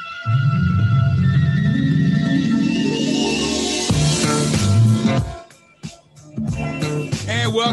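A song plays loud and full on a podcast, with dense layered tones and a rising sweep building before the sound briefly dips, then returns.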